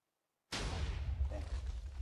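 A TNT block detonates in Minecraft: after half a second of silence, a sudden loud blast erupts and its broad rumble holds steady to the end.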